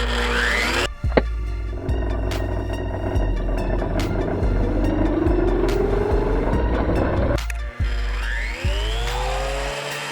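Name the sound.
Lotus thickness planer running, test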